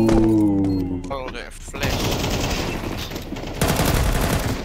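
Rapid gunfire in the video game Counter-Strike 2, dense overlapping shots crackling nearly continuously with a few louder pops, under a player's voice speaking at the start.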